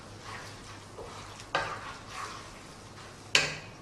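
Tikka masala sauce with tomato puree simmers in a pan while being stirred, giving soft scraping swishes and two sharper utensil knocks against the pan, alone and fairly quiet.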